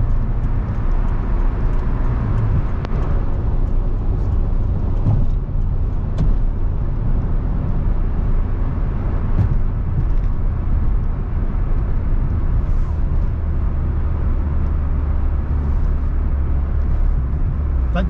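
A 1986 Peugeot 309 1.3 GR drives along with a steady, loud engine drone and road rumble heard from inside the cabin, continuous and unbroken.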